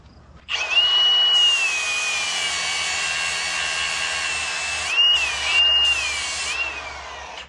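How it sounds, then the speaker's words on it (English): A power grinder works the spot welds on a 1965 Rambler American drive shaft tube, spinning up sharply and holding a loud, steady high whine, dipping briefly as the disc bites the metal and then rising again. "I'm just going to grind these down to tinfoil stage and just bust them off."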